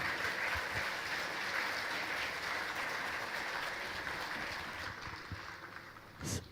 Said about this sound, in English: Everybody give a huge round of applause for our dignitaries in the house